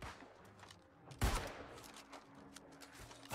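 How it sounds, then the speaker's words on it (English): Gunfire from players shooting in the video game New World, a scatter of faint shots with one louder crack, distant and quiet throughout. "We got three people shooting at us."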